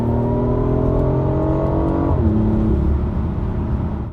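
A BMW i8 Roadster's 3-cylinder 1.5-liter B38 engine revs loudly up close, holding a steady high rev for about two seconds before dropping to a lower note that fades out at the end.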